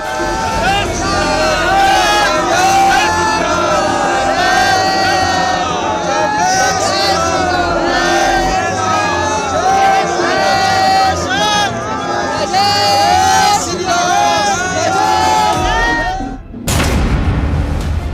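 A dense crowd of Lord Ram devotees gathered in Ayodhya, a loud continuous roar of voices and chanting that fills the space before cutting off abruptly near the end.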